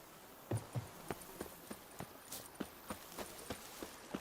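Steady clip-clop of a horse's hooves walking at an even pace in the video game The Witcher 3: Wild Hunt, faint and regular over a quiet background hum.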